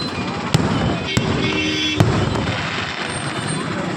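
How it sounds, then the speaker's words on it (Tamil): Fireworks display watched from a roadside, near the finale: several sharp booming bursts ring out over a dense, continuous crackle and rumble of distant explosions, with faint crowd noise underneath. "முடிய போகுது வான வேடிக்கை."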